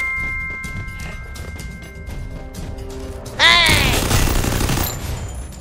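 Rapid gunshots crackle in dense bursts in the game Free Fire, joined midway by a loud metallic clash, all under a steady layer of game music and effects.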